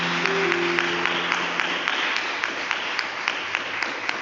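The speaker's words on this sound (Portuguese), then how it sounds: "E as palmas que glorifiquem a Deus" Church congregation clapping, a dense steady round of applause with a few louder individual claps standing out near the end, and a brief sustained tone early on.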